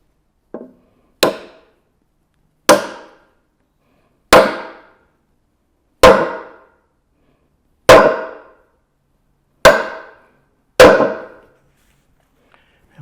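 Eight loud, sharp hammer blows from a chair maker's framing hammer striking Windsor chair parts, each crisp crack ringing briefly before silence, spaced roughly one to two seconds apart.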